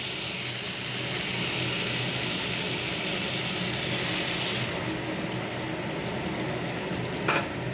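Spice paste for a bean (sheem) curry sautéing in a pan, a dense continuous sizzle and hiss that holds steady throughout, ending with a brief clatter near the end, no voices.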